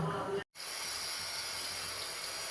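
Curry leaves dropped into hot oil for a bitter gourd theeyal give a steady, loud sizzling hiss that runs unbroken after a momentary cut near the start.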